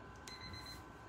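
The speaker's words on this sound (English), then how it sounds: "forgot to turn off the beeper" A workout timer beeps once during a live kettlebell session of squats, Turkish get-ups, swings and planks: a thin, steady high electronic tone lasting about half a second over faint room noise, with no talking.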